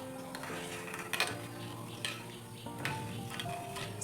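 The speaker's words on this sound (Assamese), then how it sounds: "চেনিখিনি গলি নোযোৱালৈকে মই এনেকে মাজে মাজে লাৰি থাকিম যাতে চেনিখিনি তলুৱাত লাগি নাযায়" Sugar and water stirred in a pot for rasgulla syrup, a spoon scraping and clinking against the metal in short irregular strokes, fairly quiet, with a faint steady hum underneath.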